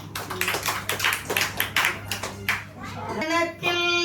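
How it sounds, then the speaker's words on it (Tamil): Rhythmic hand clapping at a temple devotional gathering for Ayya Vaikundar, steady beats keeping time with a sung hymn, with voices singing and a sustained drone underneath, tones rising near the end. "கைதட்டுங்க எல்லாரும்."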